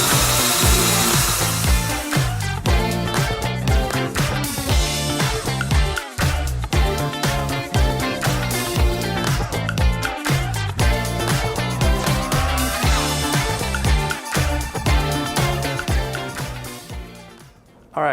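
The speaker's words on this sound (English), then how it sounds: "So now we're gonna work the drill brush onto the surface" A Chemical Guys drill brush spins and scrubs against carpet, a loud continuous whirring grind with a rough scraping texture that holds steady for the whole stretch, briefly dipping and surging as the brush is worked.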